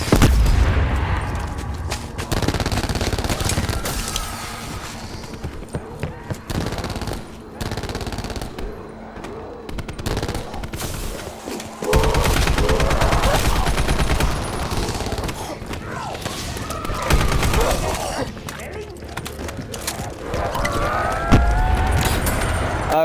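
Rapid, loud automatic gunfire and booming blasts from a Call of Duty wonder weapon, firing in long continuous bursts with brief pauses between volleys.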